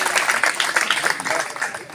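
Applause from a crowd at a political party gathering in Uttar Pradesh, a dense patter of clapping hands that swells and ebbs for a couple of seconds, with a voice talking over it.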